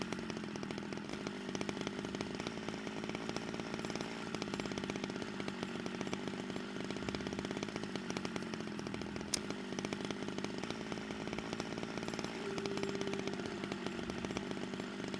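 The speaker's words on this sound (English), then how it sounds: "when you cut a stick with a chainsaw, that's where things get weird" A chainsaw cutting a stick in the survival video game Scum, a steady, loud buzzing engine drone that runs continuously for the whole stretch with little variation.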